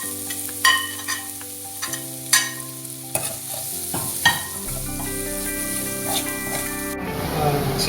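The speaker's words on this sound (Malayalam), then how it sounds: "നമ്മുടെ ക്യാരറ്റ് ഇട്ട് കൊടുക്കാൻ പോവുകയാണ്" Onion and carrot stir-frying in a pan for noodles, a steady sizzle broken by clattering strokes of a spatula, the tone and hiss shifting near the end as more ingredients go in.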